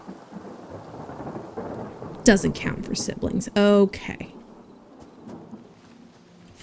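Rainfall in the video game Hytale, a steady hiss of rain running under the whole clip while a person talks over it with a few brief louder game sounds.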